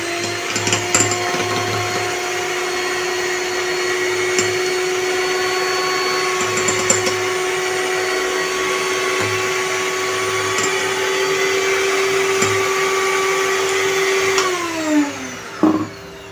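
An electric mixer whirs steadily as cake cream is mixed for a no-oven chocolate cake: a loud, continuous motor hum with a faint whine that holds for about fifteen seconds and then winds down, with no talk.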